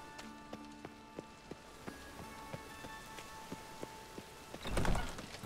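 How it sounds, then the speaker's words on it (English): Light, steady rain in The Witcher 3: Wild Hunt patters with irregular drips and faint tonal background, ending in a brief louder whoosh. "Looks like rain."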